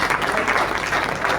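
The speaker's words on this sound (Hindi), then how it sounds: "आप सबकी करतल तालियां, आकाश भर तालियां गूंजें" An audience claps at a Hindi poetry gathering (kavi sammelan) in a hall, a brief dense burst of applause from a crowd.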